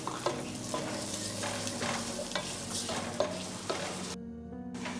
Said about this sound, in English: So when the oil is heating up, you just add garlic and ginger and mix them well